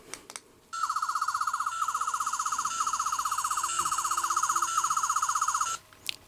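Toy 8th Doctor sonic screwdriver playing its second effect, the TV movie casket-lock sound: a rapid pulsing electronic tone repeating in short rhythmic cycles for about five seconds, clear and close, starting and stopping sharply.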